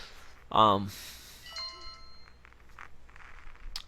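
Phone text message notification chime: a loud, brief tonal alert followed by a short series of quieter high electronic beeps, with no one speaking.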